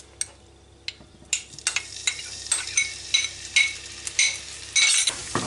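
Garlic sautés in oil in a pan with seasoning, a steady sizzle broken by a dozen rhythmic scrapes of a spoon stirring, close and clear with no talking.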